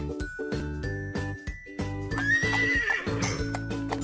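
A horse whinnies over clip-clopping hooves and jingling chimes, set against a bright looping musical backing typical of a game soundtrack.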